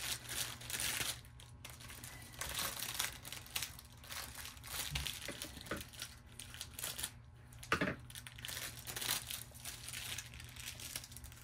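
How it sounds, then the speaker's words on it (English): Plastic packaging holding dried flowers is cut open and handled, giving a steady run of close crinkling and rustling with a few sharper snips and crackles, and no talking. "I'm just gonna cut open the bag."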